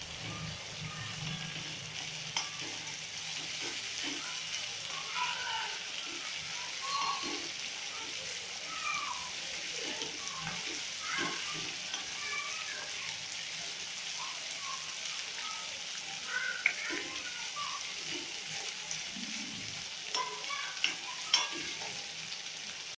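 Chilli-garlic thecha sautéing in hot oil, a constant close sizzle and crackle with occasional stirring clicks from a utensil, steady and moderately loud throughout.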